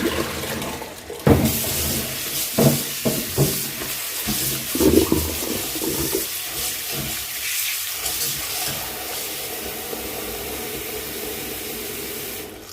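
Running tap water splashing into a basin while Chinese kale is rinsed, a continuous close wash with a few clunks and handling knocks early on, then a steady rush for the remainder, no speech.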